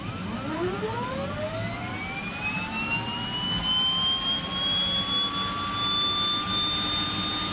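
A DHC-6 Twin Otter turboprop engine starts in a flight simulator, its whine rising steadily and climbing in pitch over several seconds under a continuous roar, loud and close with no talking.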